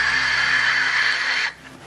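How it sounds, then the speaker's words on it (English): Wind noise recorded by the Huygens probe as it descended by parachute through Titan's atmosphere: a steady rushing hiss that drops away abruptly to a much quieter residual noise after about a second and a half, with no talking. "what you hear is mostly wind noise as the parachute's descending through the atmosphere"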